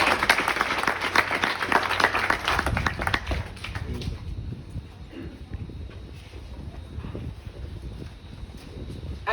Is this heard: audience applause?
yes